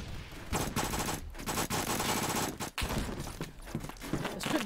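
Rapid, continuous automatic fire from an MP7 submachine gun in the Roblox game Phantom Forces, loud and dense bursts with brief gaps, amid other in-game battle noise.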